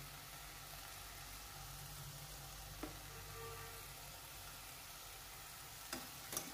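Vegetables being sautéed in a pan over low heat for an offering dish, a soft steady sizzle with a low hum beneath and a couple of faint utensil clinks.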